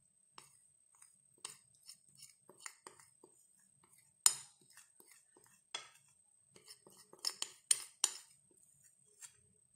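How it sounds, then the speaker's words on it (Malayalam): Dark chocolate and biscuit powder being stirred together in a bowl: sparse, quiet clinks and scrapes of a utensil against the dish, some sharper taps among softer ones, in an otherwise quiet kitchen. "ഈ ഡാർക്ക് ചോക്ലേറ്റും ബിസ്ക്കറ്റ് പൗഡറും കൂടി നല്ലോണം ഒന്ന് മിക്സ് ചെയ്യണം നമ്മൾ"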